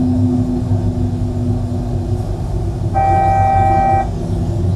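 A Boeing 737 cockpit altitude alert: a steady electronic tone with stacked harmonics sounds for about a second over loud constant engine drone.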